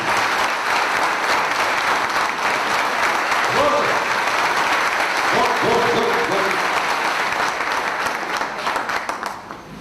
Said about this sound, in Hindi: मैं चाहूंगा कि आप लोग बड़ी जोर से तालियां बजाएं गोपाल शेट्टी जी के लिए